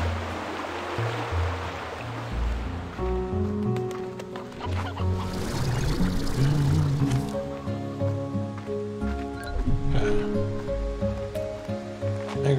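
Hen clucking in the video game Slime Rancher 2, repeated short clucks heard over steady game music and ambient water-like background, moderately loud throughout.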